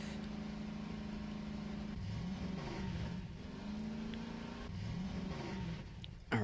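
Continuous mid-pitched drone of an ATV engine in the video game Voices of the Void, revving up and easing off in several waves, close and steady, ending with a brief louder bump.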